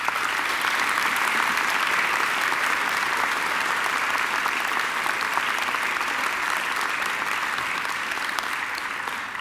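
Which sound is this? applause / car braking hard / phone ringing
applause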